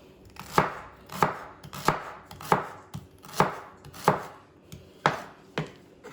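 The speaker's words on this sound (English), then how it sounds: "you're gonna wanna slice your celery nice and skinny" A knife slices celery on a cutting board with about nine sharp, evenly spaced chops. They are crisp, close and loud, and no one speaks.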